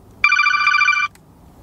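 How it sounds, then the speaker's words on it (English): A Motorola Razr flip phone rings with an incoming call, one bright electronic tone burst lasting under a second, loud and close with no talking. "My mom's calling. Let's see how this works."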